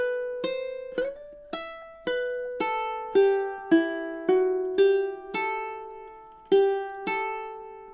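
Ukulele picking God Rest Ye Merry Gentlemen in campanella style, a steady sequence of bright plucked single notes that ring into one another, close and clear, with no voices.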